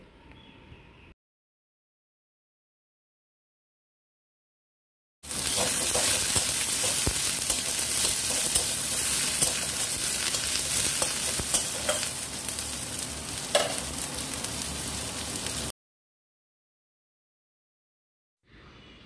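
Chopped onions stirred and frying in a pan until reddish, a loud steady sizzle with scraping stirs running for about ten seconds between stretches of silence.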